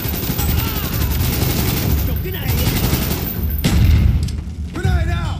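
Rapid bursts of gunfire from Call of Duty: Black Ops ring out with booming shots and steady automatic fire, loud throughout, with voices mixed in beneath the shooting.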